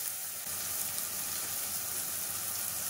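Turmeric, chilli powder, coriander powder and garam masala frying in hot oil for mutton keema, a steady broadband sizzle that holds evenly from start to finish with no talk.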